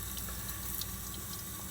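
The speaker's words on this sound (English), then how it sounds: "what we're going to do is run some water in" Tap water runs into an emptied egg shell as a steady, soft, even rush of flowing water without pause, with no one talking.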